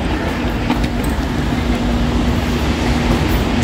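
A train runs on the line between Gupo and Mulgeum stations, heard as a loud, steady rumbling roar with a faint sustained tone, close and continuous, with no voices.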